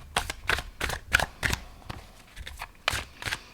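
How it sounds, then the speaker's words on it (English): A secondhand tarot deck being shuffled by hand: quiet, repeated papery riffles and slaps arriving in uneven bursts, with short pauses between them. "So let's shuffle this."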